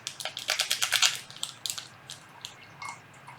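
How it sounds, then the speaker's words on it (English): Hot water poured over instant coffee powder from a German 24-hour military ration pack, giving a close run of crackling, squishing pops and drips that thin out into sparse ticks. "And we're going to add that hot water."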